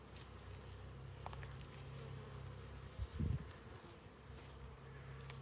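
Bees hum softly around alpine-style beehives in winter, a faint continuous low buzz with light patter and brief rustling bursts, outdoors and without voices.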